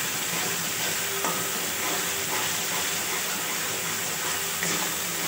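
Spice masala with chilli powder frying in a pan, a loud dense sizzle and crackle that runs steadily with a few light utensil scrapes, close and unbroken.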